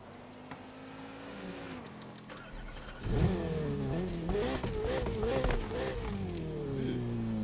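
A very quick car driven in Grand Theft Auto, its engine starting low then surging into a loud rising rev around the three-second mark, with the pitch swinging up and down as it accelerates over steady background noise.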